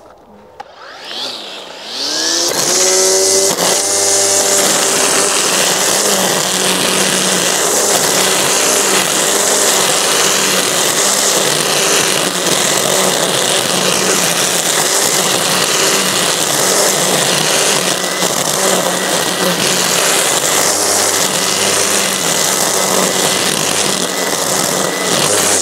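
A Greenworks string trimmer fitted with a combi motor runs steadily and loud after a short start-up whine, its high motor hum holding close and constant throughout with no talk.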